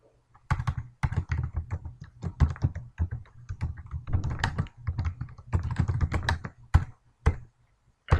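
Bursts of quick keystrokes on a computer keyboard while a code comment is typed, close and crisp, in uneven clusters with short pauses between and no talk.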